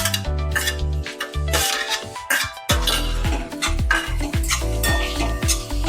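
A spoon scrapes and clanks against a pan as tomato is stirred into softened capsicum and onion for street-style paneer ghotala, with repeated ringing metallic knocks close up and no talking.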